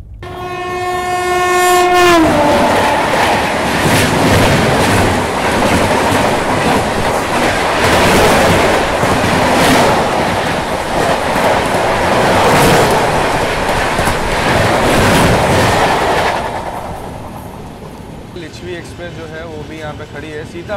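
An Indian express passenger train sounds a loud horn blast, then rumbles past close by with a steady roar and rhythmic clickety-clack of wheels on rail joints that fades toward the end.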